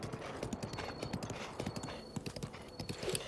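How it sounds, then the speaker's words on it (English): Horse hooves pounding at a sprint through a village in Zelda: Breath of the Wild, a rapid steady clip-clop rhythm, close and moderately loud, with no talking. "this is the only village you can have your horse sprint in"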